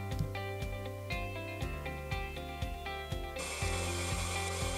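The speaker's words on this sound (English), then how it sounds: "The easy-to-use mechanical downfeed system helps you regulate how much pressure is applied to the cut." Mechanical downfeed mechanism on a Trajan 128 band saw, giving a steady run of sharp ratchet-like clicks over a constant machine hum, with the noise growing louder and hissier near the end.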